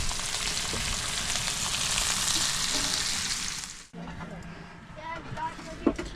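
Hash browns and bacon frying on a camping grill, a steady loud sizzle that cuts off abruptly partway through, followed by quieter crackling and outdoor ambience.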